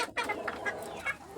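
Chickens clucking in a small roadside backyard flock, several short overlapping clucks close by with no talk over them.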